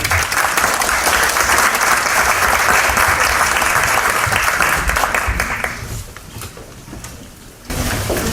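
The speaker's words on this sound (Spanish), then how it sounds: "Un aplauso, por favor." Audience applause at a university colloquium, a dense, loud burst of many hands clapping that holds steady, then tapers off abruptly into quieter room noise before a brief final rustle.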